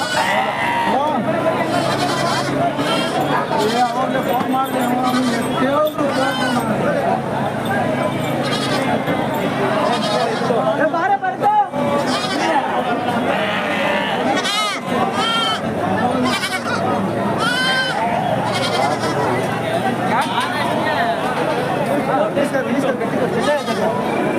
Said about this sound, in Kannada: ಏನು ಸಂತೆ ಜೋರಾಗಿದೆ ಇವತ್ತು ಅಲ್ವಾ? ಹಬ್ಬದ ಸಂತೆ.